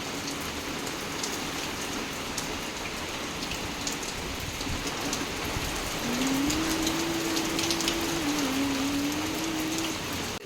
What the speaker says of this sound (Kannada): ಮಳೆ ನೋಡಿ ಯಪ್ಪ ಸಿಕ್ಕಾಪಟ್ಟೆ ಬರ್ತಿದೆ ಮಳೆ